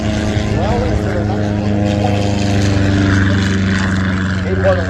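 Nieuport 11 WWI fighter plane flying at Air Show Atlantic in Debert, 2023, a steady droning propeller engine hum that holds level throughout while a voice talks over it.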